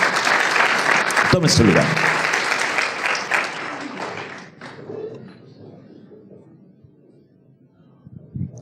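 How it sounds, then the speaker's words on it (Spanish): A church congregation gives loud, dense applause after a sermon prayer, which fades gradually into quieter scattered clapping while someone speaks briefly over it. "Denle una ofrenda de palmas al Señor"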